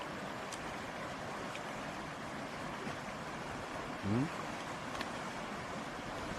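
A mountain waterfall high in the hills makes a steady broad rushing roar of falling water, with a person speaking briefly nearby.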